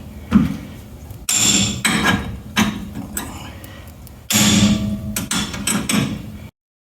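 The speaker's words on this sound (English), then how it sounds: "Take your hammer" Repeated sharp hammer blows ring against metal while removing axle seals on a Chevelle wagon, struck in a few loud bursts with short pauses between, close up.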